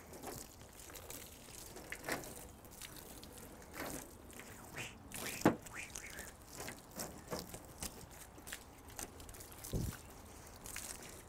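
Water is poured gently over a car dusty with pollen and bird droppings in an outdoor wash, giving soft trickling and splashing with scattered drips and small clunks, fairly quiet and irregular.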